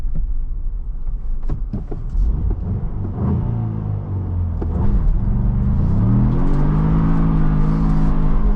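A Ford Bronco with a 7-speed manual gearbox launches in 4 auto, its engine note rising steadily from a low rumble into a strong, loud acceleration roar with a gear change partway through, heard from inside the vehicle.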